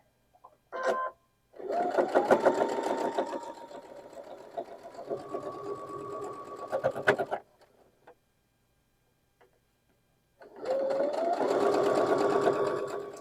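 A sewing machine stitches a quilt block seam in bursts, a fast close mechanical whirr running for several seconds, pausing, then resuming, with a short blip before the first run and quiet gaps between.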